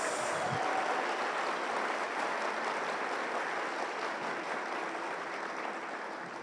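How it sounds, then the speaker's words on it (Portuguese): Congregation applauding during a church service, a dense wash of steady clapping from many hands that fades slightly toward the end. "Vamos aplaudir ao Senhor por isso."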